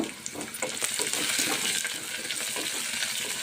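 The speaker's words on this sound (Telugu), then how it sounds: "ఉల్లిపాయ ముక్కల్ని ఇలాగా కొంచెం సేపు వేయించుకుందామండి కొంచెం కరివేపాకు కూడా వేసుకున్నానండి" Onion pieces and curry leaves fry in a pan with a constant close sizzle and the scrape of stirring, alone without talk.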